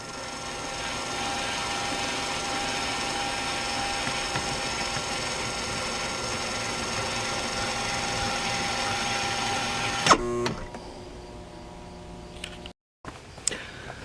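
A 12 volt DC electric jack on a camper retracts with a steady mechanical whir and grinding gear drone for about ten seconds. It stops with a clunk, followed by a few faint rattles and a short silence.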